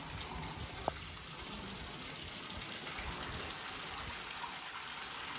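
Water runs steadily at the Krishna river source temple in Mahabaleshwar, a constant soft gush like a spout pouring, faint and unchanging, with one brief click near the start and no voices.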